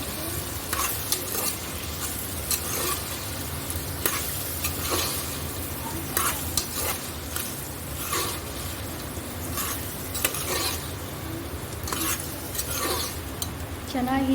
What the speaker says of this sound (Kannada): ಎಣ್ಣೆಯಲ್ಲಿ ಫ್ರೈ ಆಗಬೇಕು ಆಲೂಗಡ್ಡೆ ಕೂಡ